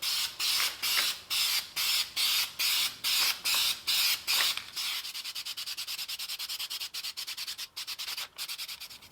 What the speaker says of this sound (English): Get you some hard black paint and start spraying